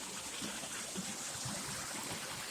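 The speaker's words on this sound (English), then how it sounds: "There's another little creek right here." A small creek flows along the Bartram Trail, a steady close rush and trickle of water that fills the clip without pause.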